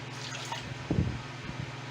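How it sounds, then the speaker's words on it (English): Boiled eggs slosh and knock in a little water in a container as their shells crack, a brief wet swirl with a thud in the middle, fairly close and alone. "slosh it around, kind of give a little bit of tornado action. Make sure that shell is broken really good"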